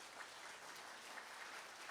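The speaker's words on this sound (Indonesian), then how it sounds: "Mari tepuk tangan dulu buat panitia." Audience at a Christmas Eve church gathering applauding the organising committee, a soft, even patter of many hands heard from a distance.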